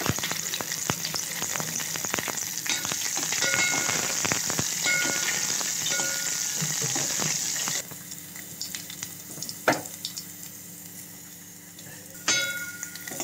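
Dry fruits frying in hot ghee for a semiya sweet, a loud steady sizzle with crackles and stirring scrapes, then the sizzle drops off partway through, leaving quieter sporadic clinks and pops.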